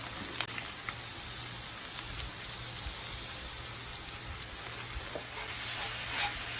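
Two pounds of sausage browning in a pan, with a steady, dense sizzle and crackle running throughout and light stirring scrapes on top, no talking.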